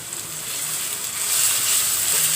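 Ginger garlic paste frying in hot oil in a pan for an oil-fried meat dish, heard up close as a loud, steady hiss of sizzling that swells slightly louder partway through, with no voices.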